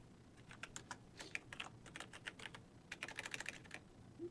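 Rapid, uneven clicking of a computer keyboard being typed on, close and fairly quiet, in bursts of keystrokes with short pauses.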